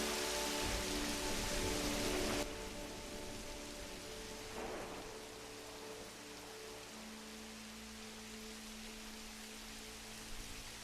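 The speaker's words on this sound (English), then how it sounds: "This binaural beats thing with the rain sound mixed." Steady rain pattering on a surface with rolls of thunder, blended with a low continuous binaural-beat tone; a brief louder wash of noise at the start gives way to an even, immersive storm bed with no voices.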